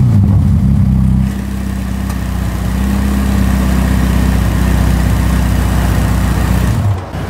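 A Ferrari engine idles just after a cold start with its muffler valve open, giving a loud, deep, steady rumble close by that holds for the whole stretch, with no talk.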